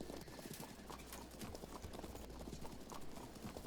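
Horse hooves of nomad horse archers in the Field of Glory II strategy game, a steady, dense clip-clop of many galloping mounts throughout, loud and continuous with no talk.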